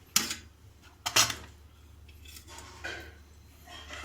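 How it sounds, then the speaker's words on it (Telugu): A metal kadai is set down on the stove, with two sharp clanks close together near the start, followed by faint handling noise. "కడాయి పెట్టానండి."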